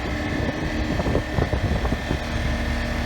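A 1978 Vanguard boat's engine rumbles and rises under throttle out on the water, a low steady drone mixed with gusting wind buffeting the microphone.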